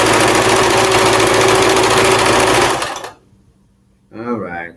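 A sewing machine stitching fabric for a Black Power flag, running loud and steady for about three seconds, then stopping abruptly; a voice begins speaking just after.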